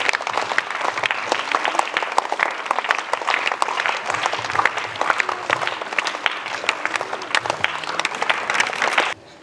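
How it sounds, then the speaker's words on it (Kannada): A seated audience at a school annual sports day inauguration claps together in sustained, dense applause that holds steady for several seconds before cutting off abruptly. "ಎಲ್ಲರೂ ಚಪ್ಪಾಳೆಯ ಮೂಲಕ ಅದಕ್ಕೆ ಗೌರವವನ್ನು ಸಲ್ಲಿಸಬೇಕೆಂದು ಕೇಳಿಕೊಳ್ಳುತ್ತೇವೆ"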